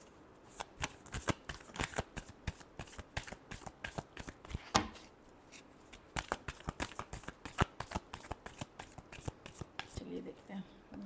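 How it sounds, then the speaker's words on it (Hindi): Tarot cards being shuffled by hand during a weekly horoscope reading, a long run of quick crisp riffling flicks and soft slaps in an uneven rhythm, close and moderately loud, with a few brief pauses between bursts. "Last shuffle."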